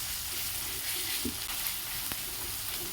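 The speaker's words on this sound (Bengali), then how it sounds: "এই মশলাগুলো এই একসঙ্গে সব মশলা কষা হলো" Spices, onion, ginger and garlic sauté with tomato and ground cumin, turmeric and coriander in a pan, giving a steady, moderately loud sizzle and frying hiss with occasional soft stirring clicks, no voices.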